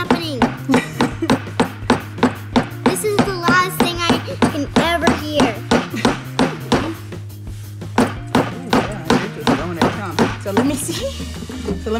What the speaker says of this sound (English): Okay, so the little hammer is not gonna work. It did not even crack open anything